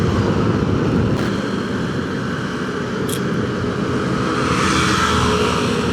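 A 2017 Yamaha Aerox 155 scooter riding on a Jakarta road, a loud steady engine drone mixed with heavy wind rush.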